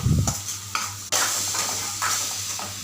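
Mango pieces stirred into a hot pan with mustard seeds, green chili, salt and turmeric, giving repeated scraping stir strokes over a steady close sizzle.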